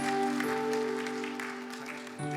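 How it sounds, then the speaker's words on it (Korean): A church congregation at a Christmas Day Sunday service in Southern California applauds during a child's baptism. Soft, steady clapping sits under sustained organ-like tones, with no distinct individual claps. "다시 뜨거운 박수로 축복하고요"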